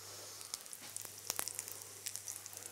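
Potato galettes cook gently in a pan over low heat, a quiet, faint sizzle broken by small irregular pops and crackles, near but soft, with no speech.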